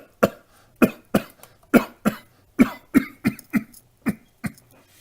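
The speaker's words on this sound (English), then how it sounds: "How long have you had that cough?" A man coughs repeatedly in a ragged series of about a dozen sharp, hacking bursts, close and alone, unevenly spaced.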